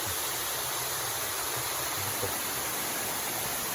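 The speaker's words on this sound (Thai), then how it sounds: "ใสนะครับน้ำตกใส" A clear waterfall at Huai Rong in Phrae, inside a forest arboretum, gives a steady, dense rush of falling water that runs unbroken from start to finish with no voices.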